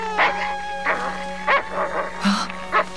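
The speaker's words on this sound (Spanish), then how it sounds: "¡Quitadme a este maldito perro de encima!" A dog barks in several sharp, loud bursts spaced irregularly, close by, with a steady tonal hum beneath; no speech is heard alongside.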